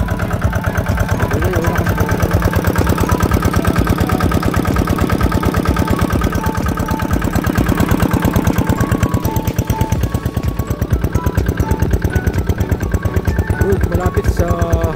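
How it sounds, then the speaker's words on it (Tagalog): A deep well irrigation pump engine runs at low throttle, a loud steady rhythmic chugging close by, with someone speaking over it. "Nakabinor lang po yung makina."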